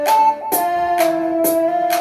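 Beat of a 909 snare with 808 maracas, bongo and clap, bright percussive hits landing about every half second over a held synth tone, loud and near, no talking.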